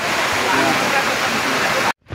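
A waterfall in Sanjay Gandhi National Park, Mumbai, gives a dense, steady rush of falling water close by. It cuts off sharply near the end, then faintly returns.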